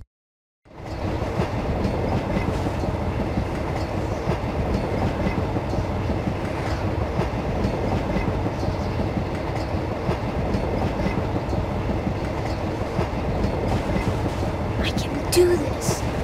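A moving train from The Polar Express video game rolls steadily with continuous rumbling and clickety-clack of wagons, loud and close throughout, with faint game voices mixed under the rail noise.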